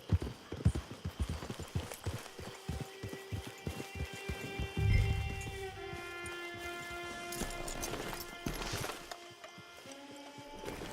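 Horse hooves clip-clop on the ground in Red Dead Online, a quick run of close, rhythmic beats that slows and fades under sustained musical tones and ambient game sound.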